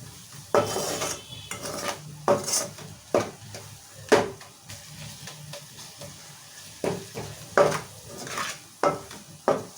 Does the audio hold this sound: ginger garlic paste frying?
yes